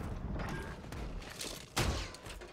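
Shotgun fire in Modern Warfare 3 comes as a few sharp, close blasts amid rattling in-game action, with one louder burst near the end.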